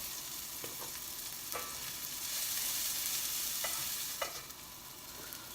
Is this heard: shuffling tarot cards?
no